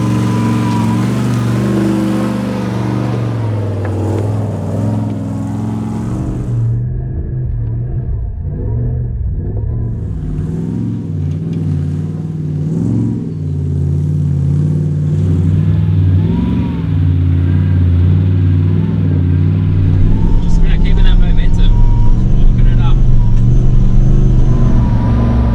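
Engine of a manual off-road vehicle revving on a hill climb at Glasshouse Mountains, a loud rumbling drone that rises and falls through gear changes and builds again toward the end.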